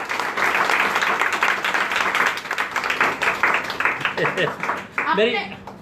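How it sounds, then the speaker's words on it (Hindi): Audience applause at a prayer gathering held outdoors in the street, clapping running under a loud talking voice, thinning out toward the end as speech takes over. "जोरदार ताली बजा दो, जोरदार।"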